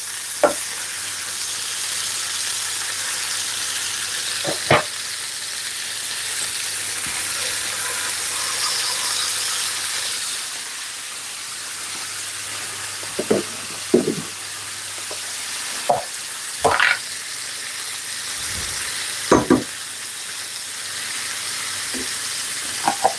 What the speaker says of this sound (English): So this is what you call searing.